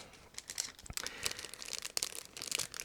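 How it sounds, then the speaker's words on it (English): Plastic bag from a Miniart 1/48 P-47D model kit being opened, with close, quiet crinkling and rustling in irregular bursts. "So I'm still opening the plastic bag"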